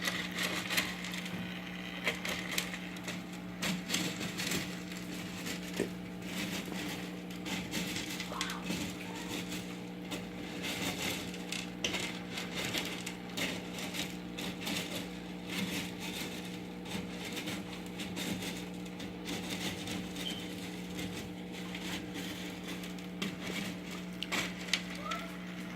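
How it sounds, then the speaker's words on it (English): Aquarium gravel is vacuumed through a cut-down pump tube, giving a continuous faint rattle and crunch of gravel with a low steady hum underneath. "I cut the tube down from my vacuum vacuum pump, and this is how I do my gravel vacs"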